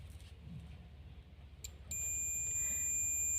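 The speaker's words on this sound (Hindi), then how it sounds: "ये डायोड जो हैगा वो बजर की साउंड दे रहा है" A multimeter's continuity buzzer sounding while a shorted diode in a charger is tested: a soft tick or two, then a steady high electronic tone starting midway and holding to the end over quiet background hiss.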